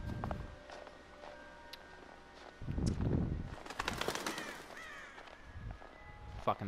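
Crows cawing and wings flapping in the video game Until Dawn, several harsh calls in a quick burst mixed with footstep-like thuds, fairly close, with no speech over them.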